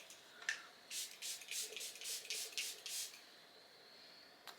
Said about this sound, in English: I'm going to go with my setting spray